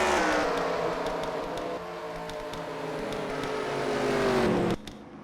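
Race cars in a video game racing series event, several engines whining and droning together at high revs, pitch sliding down as they brake, ending with an abrupt drop; loud and close, no talking.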